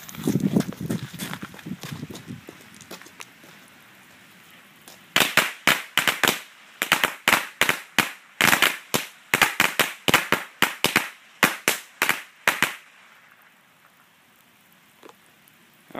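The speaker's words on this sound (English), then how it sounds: "Strip of 50 Power Crackers by Red Rhino." A strip of 50 Red Rhino Power Crackers firecrackers goes off in a rapid, loud, irregular string of sharp bangs lasting several seconds, preceded by a quieter fizzing fuse and followed by near silence.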